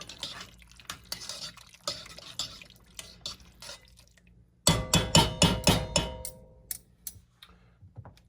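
A spoon works through a thick beef short rib bolognese in a pot. After a quiet stretch of faint ticks comes a quick burst of wet, clinking scrapes, several strokes in a row that then fade.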